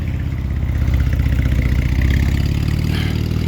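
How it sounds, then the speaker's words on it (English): A Porsche 911 of the 997 generation with its valved sports exhaust open, running steadily with a deep, rumbling engine note and a slight rise in revs near the end. The sound is close and loud, with no talking. "So at the moment the valved exhaust is open, so it sounds pretty fruity. Give it a rev, Aid!"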